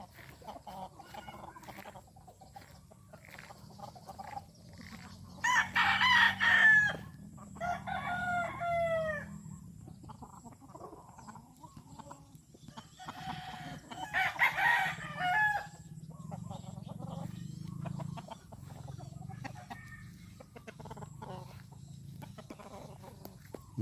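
Chickens and roosters at a coop crow repeatedly at medium distance, with scattered clucks and squawks over a quiet background.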